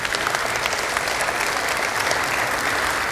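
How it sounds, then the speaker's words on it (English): A church congregation applauds steadily and loudly, a dense wash of many hands clapping without pause from start to finish. "we can clap for that"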